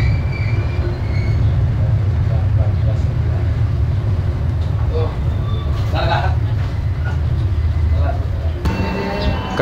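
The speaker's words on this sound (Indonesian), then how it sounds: "Kereta api Baturaden sudah tiba di stasiun Kroya." Baturraden Ekspres business-class train pulling into Kroya station, a steady loud low rumble of rolling stock with faint intermittent squeals and clanks, ending in a sharper burst as it slows.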